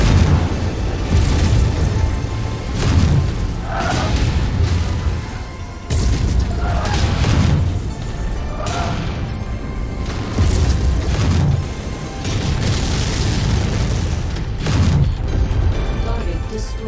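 Heavy booming explosions of a target mech being destroyed in MechWarrior 5 repeat every few seconds over a dense, loud battle rumble.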